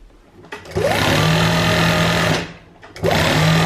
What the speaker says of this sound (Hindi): उसको डबल फोल्ड कर दिया और इस तरह से सिलाई लगा दें।